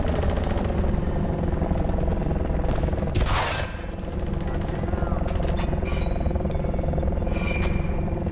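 Steady rotor-like drone of a helicopter in Battlefield: Bad Company 2 throughout, with a brief whooshing burst in the middle and scattered sharp clicks over the noise.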